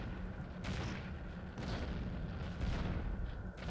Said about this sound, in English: I'm getting shot at by the AAA, but that stuff's pretty inaccurate